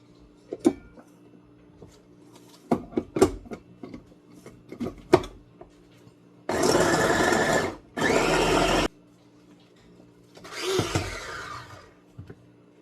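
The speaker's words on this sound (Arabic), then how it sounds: "هاد 5 د الريوس هنا صافي غادي نديرهم يطحنوا" An electric grinder chops five garlic cloves. Scattered taps and knocks come first, then two short, loud whirring bursts with a brief pause between them, and a fainter third run follows.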